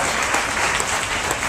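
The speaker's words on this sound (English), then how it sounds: "Altaf Ahmed, the director of Miyasi, deserves a special cheer from all of us." Audience at a lecture applauds steadily, a dense, even clapping that fills the whole moment with no talk over it.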